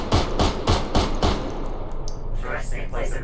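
.22 LR rifle fired outdoors in a rapid string of about five sharp, evenly spaced cracks, followed by quieter clattering sounds.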